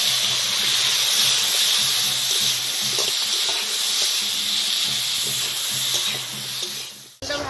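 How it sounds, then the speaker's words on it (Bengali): Eggplant pieces sizzle steadily in hot oil, a bright continuous frying hiss with small crackles and faint stirring clicks, loud and close throughout before cutting off sharply at the end. "তেলের মধ্যে আবার বেগুনগুলো ভেজে নেব"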